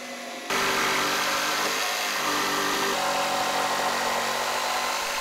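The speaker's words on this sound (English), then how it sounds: "With some cutoffs I lifted up the slab so I could cut it with my jigsaw." A jigsaw cuts through an oak slab propped up on cutoffs, starting abruptly after a short pause and then running as a loud, continuous buzzing saw whine at close range until the end.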